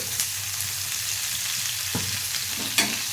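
Green chillies and onions fry in oil for a fish and tomato curry, a steady moderate sizzle with a couple of sharp stirring clicks near the end.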